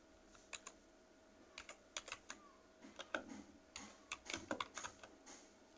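Quiet typing on a computer keyboard: scattered single key taps and short clusters of clicks, near and soft, with no talking.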